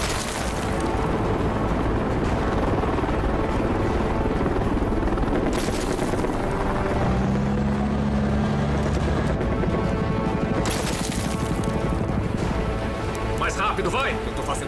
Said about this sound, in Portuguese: Eu não costumo ser perseguido por helicópteros todo dia!